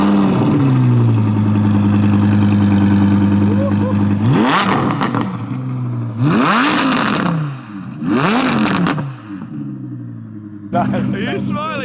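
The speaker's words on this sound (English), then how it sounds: "We need to at least hear the car's exhaust sounds" Audi R8 V10 Plus and McLaren 675LT supercar exhausts roaring through repeated revs, a sustained high engine drone followed by several rising bursts with gaps between, loud and close, with voices talking over it.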